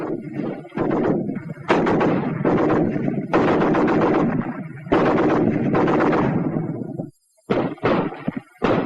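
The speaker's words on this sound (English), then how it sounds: "The BAR, 80 shots a minute." Browning Automatic Rifle firing in a WWII-era training film, dense rapid bursts of loud, heavy gunfire that roll on for several seconds, then stop briefly before a few final shots.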